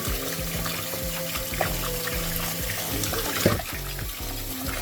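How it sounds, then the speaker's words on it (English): Papaya seeds are rinsed under a running tap in a sink, water pouring and splashing steadily up close, with small clinks and shifts as the seeds are handled. "Wash them so that you can pull more of that pulp off, and then just lightly tap them dry."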